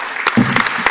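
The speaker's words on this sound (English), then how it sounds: "Can we give them a round of applause, please?" A medical conference audience applauds after a live transmission of a cardiac valve procedure, short loud bursts of clapping mixed with a brief murmur of voices.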